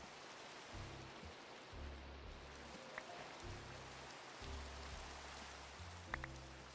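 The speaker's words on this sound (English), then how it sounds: "even more depressing when it rains" Rain falls in Minecraft, a soft, even patter that stays faint and continuous throughout, with low tones from the game running underneath and no voices.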